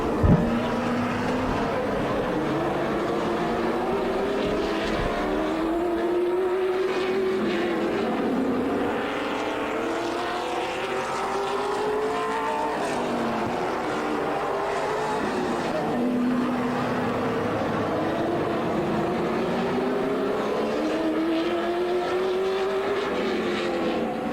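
Late model race cars run warm-up laps on a quarter-mile track, their engines droning and rising and falling in pitch as the field circles past, loud and continuous throughout.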